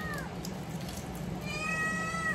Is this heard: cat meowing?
yes